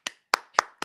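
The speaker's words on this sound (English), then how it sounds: "clapping." Four sharp hand claps, evenly spaced and close, each a crisp broadband burst with a short decay, in an otherwise quiet room.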